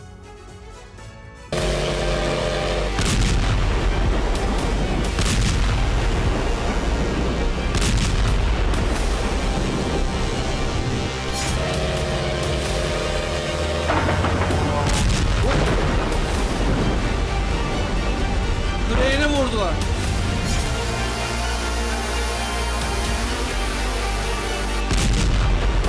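Repeated heavy booms and blasts from wartime strikes in Russia rumble one after another over a dense, roaring background, loud and continuous with sharp bursts throughout.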